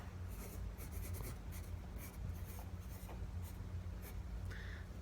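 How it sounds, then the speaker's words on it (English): A pen writes on paper close by, giving scratchy strokes in short irregular bursts with brief pauses between them, soft and steady over a low background hum. "So let me write it down to help you out."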